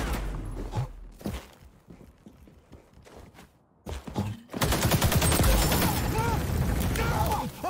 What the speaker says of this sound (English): let's see how this AK spit in this game